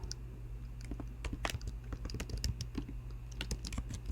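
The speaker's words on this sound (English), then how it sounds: "Then up in the top, we're going to type graveyard" Rapid, irregular keystrokes on a computer keyboard while entering text in projection-mapping software, close and clear over a steady low background hum, with no talking.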